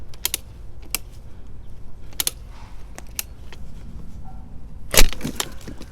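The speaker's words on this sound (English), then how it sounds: "I'm going to take my big ratcheting pruners and we're going to cut this one back." Large ratcheting pruners cut back a branch with a series of sharp, separate clicks and snaps. The last cut ends in a louder crack, and quiet pauses fall between the cuts.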